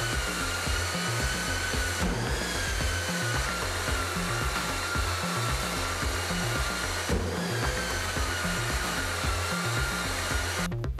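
A Festool Planex long-reach drywall sander runs continuously with a steady high-pitched motor whine and a dense broadband rush, loud and close, with brief dips in pitch around the second and seventh seconds.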